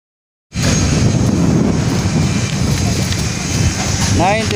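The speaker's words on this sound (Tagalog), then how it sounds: "Grabe, hangin." Strong wind buffets a microphone at a residential construction site, a loud steady roar that starts abruptly and continues throughout, with a faint whistle near the end.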